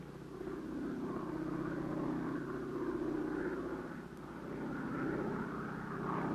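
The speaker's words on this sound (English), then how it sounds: "The American earth sped past under the plane's fleet wings." A steady, droning propeller airplane engine hums continuously at an even loudness, a plane cruising in flight during the 1952 Adlai Stevenson presidential campaign.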